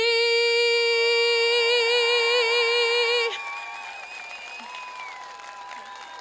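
Applause follows a sung national anthem at a Canadian U15 men's fastpitch softball championship, starting under the final held sung note and then continuing as lighter, scattered clapping.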